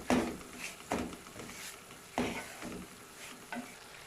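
Sooji halwa stirred in a hot pan, soft sizzling frying under repeated scraping strokes of a spoon at an uneven, unhurried rhythm, close and fairly quiet.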